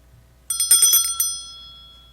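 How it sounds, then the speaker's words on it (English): A small bell struck a few times at the start of a Unitarian Universalist Sunday church service, bright ringing tones that fade out slowly in a quiet room. "Before we ring the bell, let's take a moment to greet all present"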